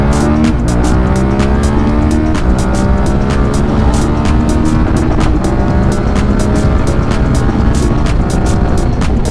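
A QJ Motor SVT 650X motorcycle fitted with a new exhaust idles and revs close by. The loud, deep, bassy engine note rises and falls in repeated throttle blips, heard alone without talk.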